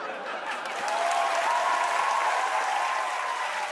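An audience claps in steady, dense applause that swells slightly and holds at an even level throughout, with no voices standing out.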